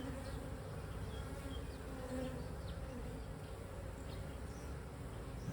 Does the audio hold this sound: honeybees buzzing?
yes